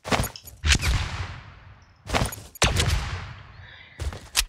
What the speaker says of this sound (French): j'entends des tirs